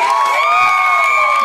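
An audience at a children's talent show in Ghana cheers with loud, high-pitched sustained screams and shouts, close and unbroken for the whole moment.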